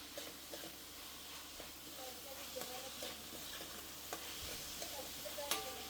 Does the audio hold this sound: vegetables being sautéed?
yes